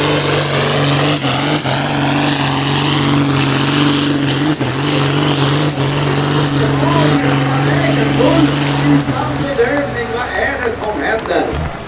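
A tractor pulling engine at the Frösö Tractorpulling 2024 event in the 5000 farm class roars loudly and continuously while dragging the sled, with a steady, heavy drone under an announcer's commentary.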